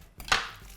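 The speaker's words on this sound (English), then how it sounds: "chopping a mango" A single knife stroke cuts down through a mango on a kitchen board, one crisp close chop followed by a short fading tail in an otherwise quiet room.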